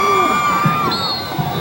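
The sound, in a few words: football game crowd cheering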